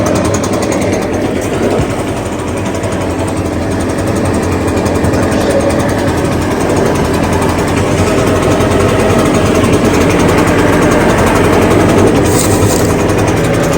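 An Echo PB580T backpack leaf blower, brand new, idling outdoors, a steady loud two-stroke engine drone that holds even for the whole stretch with no talk over it.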